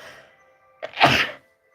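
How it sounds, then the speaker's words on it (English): A single close sneeze bursts out sharply after a brief quick intake, loud and sudden against an otherwise quiet indoor room. "why am I sneezing so much?"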